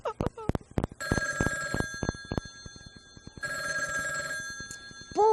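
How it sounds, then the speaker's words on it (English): An old-fashioned telephone bell rings in two long trilling bursts, loud and close, between sharp knocks and short cartoonish vocal sounds, with a voice rising at the very end. "Oh, ring, little telephone, ring."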